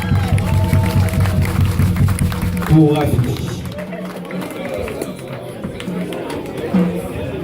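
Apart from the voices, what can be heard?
audience applauding the carnival queen runner-up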